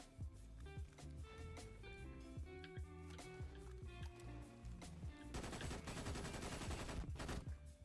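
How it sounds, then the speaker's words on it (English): Grenade launcher and Vector SMG fire in the Brink shooter game, with rapid bursts swelling into a dense volley near the end over a steady musical soundtrack. "Grenade launcher and the Vector SMG."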